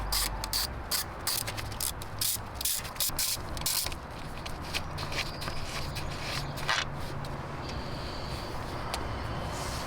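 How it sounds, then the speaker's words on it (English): A T30 Torx ratchet loosens the coil cover on a 1995-1997 Jaguar XJ6, with close, busy clicking and mechanical rattling over a constant hiss of workshop noise. "Now, grab a T30 Torx and remove the coil cover."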